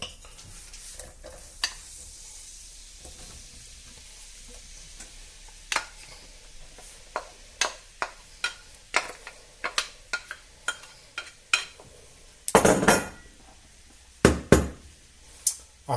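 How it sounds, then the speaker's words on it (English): Red pepper, green pepper and onion cook in hot oil in a pan, a soft, low sizzle broken by scattered close clicks and scrapes of stirring, with two louder clattering bursts toward the end and no one talking. "once the oil is hottish, we'll add in the red pepper, green pepper and the onion."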